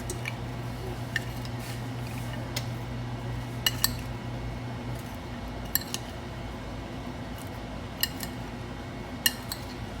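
Utensil stirring food coated in olive oil in a bowl or pan, soft scraping with scattered light clinks and taps against the dish, faint and steady over a low background hum.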